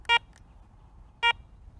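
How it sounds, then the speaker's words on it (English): Two short electronic beeps from a Garrett ACE 200 metal detector powering on, sharp and close, about a second apart over a quiet background. "To power on the detector, simply press the power button."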